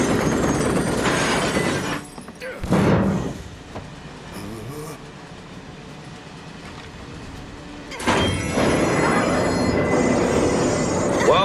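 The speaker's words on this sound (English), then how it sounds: "Need to slow the train down." In the video game Final Fantasy 7 Remake, a train runs on rails with loud rumbling and screeching wheels. The noise dips to a quieter rolling hum midway, then surges back loud.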